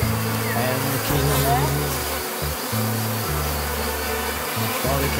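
Loud buzzing of many honeybees at an open hive, a dense drone that pulses on and off in short bursts, close by, with faint voices underneath.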